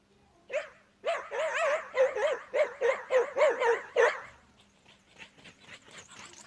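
A hunting dog chasing a wolf pup barks in a fast, excited run of about ten yelping barks, then quieter scattered yips trail off.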